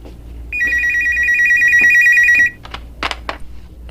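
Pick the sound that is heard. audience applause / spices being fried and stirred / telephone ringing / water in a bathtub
telephone ringing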